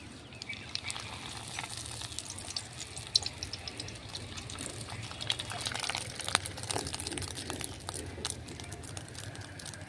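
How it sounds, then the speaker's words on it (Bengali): Sago pearls frying in hot white oil, scooped in a strainer, give a continuous bubbling sizzle with scattered pops and clinks, close and fairly quiet. "এখন আমি এই ছাঁকনিটা দিয়ে আমি সাবুগুলি ভেজে নেব।"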